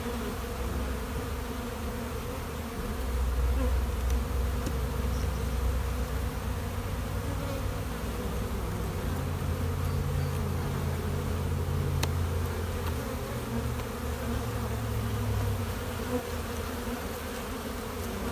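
Honey bees buzz steadily at an open hive's brood chamber in spring, a dense continuous droning hum close by, swelling slightly as individual bees pass near.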